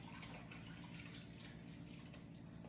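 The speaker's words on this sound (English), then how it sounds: "Let me just rinse my hands off." Tap water runs steadily into a kitchen sink while hands are rinsed during cooking, a faint continuous splashing stream with no talk.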